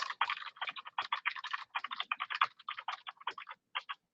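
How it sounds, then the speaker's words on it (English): Soft, rapid keystrokes patter in quick bursts with brief pauses, light typing on a quiet keyboard close to the microphone. "you can probably hear me typing, but this keyboard is actually a new one that's actually quieter"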